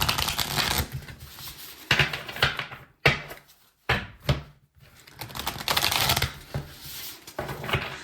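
Tarot cards are shuffled in several quick riffling bursts, crisp and close, separated by brief pauses, with no talking.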